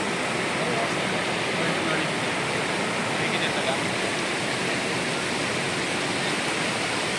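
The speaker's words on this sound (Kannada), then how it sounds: "ನೋಡಿ ಯಾವ ಥರ ನೀರು ಹರಿತಾ ಇದೆ ಅಂತ." Water rushing and flowing steadily at Manchanabele dam near Bangalore, a loud, continuous broadband roar close by, with a voice talking faintly over it.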